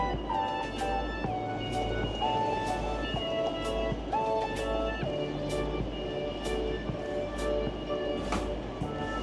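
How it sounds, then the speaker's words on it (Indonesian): An Avanti West Coast train pulls into Liverpool Lime Street station, with a steady low rumble and mechanical drone under shifting tonal whines and a few sharp clanks, close and continuous throughout. "Ini stasiunnya di Liverpool. Ya, keretanya baru nyampe."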